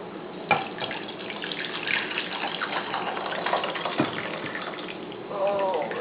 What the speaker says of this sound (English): I'm going to try to pour this into this saucepan.